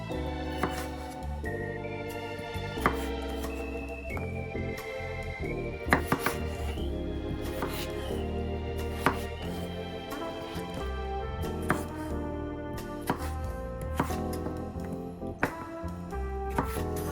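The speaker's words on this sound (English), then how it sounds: "Lay that flat down on the cutting board and then slice off 1/4 inch wide pieces from it." A knife cuts potatoes into quarter-inch fries on a cutting board, with irregular sharp taps and chops heard alongside a steady musical backing and no voices.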